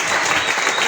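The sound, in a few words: congregation applauding the Lord in church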